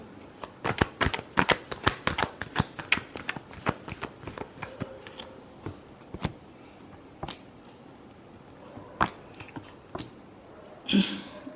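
A deck of tarot cards is shuffled in rapid, crisp riffling bursts, dense at first and then thinning to scattered single flicks, with a final rustle near the end; close and fairly quiet, with no talking.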